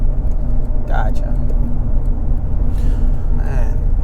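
A K24-swapped 1995 Acura Integra cruises with a loud, steady low engine and road rumble filling the cabin, plus faint interior rattles and short bursts of voices.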